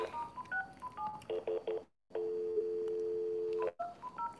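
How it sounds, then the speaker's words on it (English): Telephone keypad dialing tones beep out a quick string of digits, then a long steady tone holds for over a second before more short key beeps follow, quiet and clean with no voices. "Calling the winner here."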